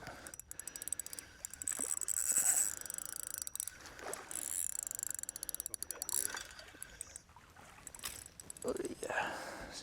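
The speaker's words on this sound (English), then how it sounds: "on that new TD Black, you can hear that drag sound" A Daiwa TD Black fishing reel's drag clicks in rapid ratcheting bursts during shallow-water fishing, fairly faint, with soft background rumble between runs.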